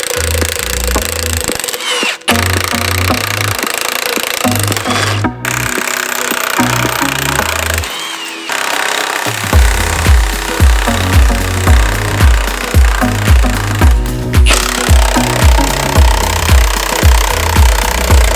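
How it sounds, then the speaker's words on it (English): A Milwaukee power tool hammers at rusty nuts on a Silverado truck frame, loud rapid impact bursts broken by short pauses, then a long run of steady rhythmic hammering near the microphone. "we got our trusty Milwaukee here, and we're going to bust these nuts"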